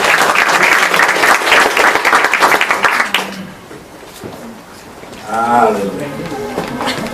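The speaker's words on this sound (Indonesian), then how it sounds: "Mari kita sambut dengan sekali lagi dengan apresiasi tepuk tangan untuk Pendeta Gilbert Randy." Audience applause for Pastor Gilbert Lumoindong at a church service, a loud sustained burst of clapping from a large crowd lasting about three seconds, then quieter room sound as a voice speaks.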